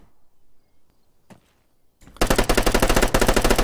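Automatic gunfire from new weapons in the video game Arma 3: after a few faint clicks and a thump, a loud, rapid, evenly spaced burst of shots rattles on steadily for over a second, close and alone.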